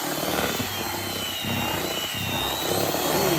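Electric whisk beating carrot cake batter in a bowl, with a continuous, fairly loud, steady whirring drone that has slight rough fluctuations from the blades churning the mixture.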